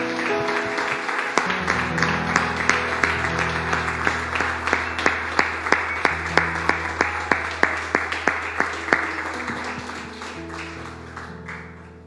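A church congregation breaks into sustained applause, dense clapping that stays loud and even for about ten seconds, with rhythmic unison claps rising through the middle before it thins out at the end.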